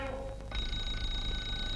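Early radio receiver demonstration sets off an electric bell that rings continuously and loudly after a short voice at the start.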